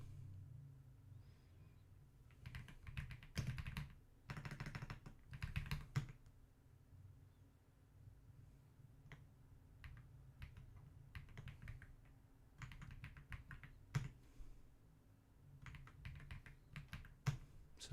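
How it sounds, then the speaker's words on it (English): Bursts of rapid typing on a computer keyboard, clustered clicks separated by short pauses, close and fairly soft over a low background rumble, with no talking. "So I'm just typing down your names."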